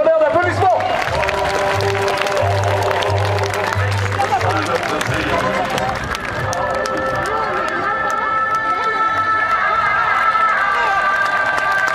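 Crowd at an outdoor horse festival cheering and applauding a rider playing Zorro: a loud, continuous wash of clapping and shouts under an announcer's amplified voice, with music and background noise.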